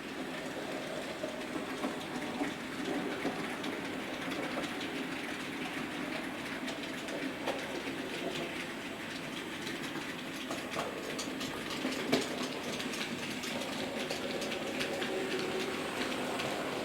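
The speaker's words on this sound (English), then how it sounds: "here's a nice panoramic view of the loco running around" Hornby Class 08 model diesel shunter locomotive running around a model railway track, a faint continuous whirring and rattling hum with light clicks, steady throughout with no speech.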